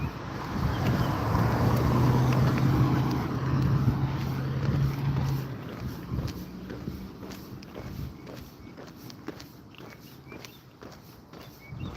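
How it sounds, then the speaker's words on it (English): Cars pass along a road heard while walking outdoors, a loud vehicle rumble swelling early then fading away, followed by quieter traffic hiss with footsteps and light wind noise. "when the cars are passing by and some of them are really loud"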